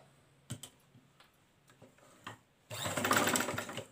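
A sewing machine stitches a baby frock, first a few scattered clicks and taps, then a dense, rapid mechanical whirr of stitching that runs steadily to the end, close and moderately loud.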